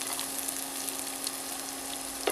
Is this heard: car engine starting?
no